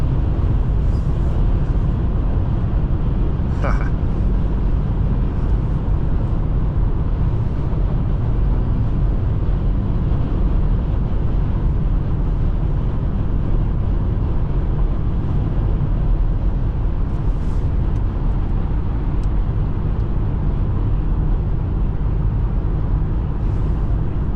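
A 2019 Volkswagen Atlas SEL V6 4MOTION driving in sport mode, heard from inside the cabin as a steady, continuous engine and road rumble with wind noise throughout and no talking.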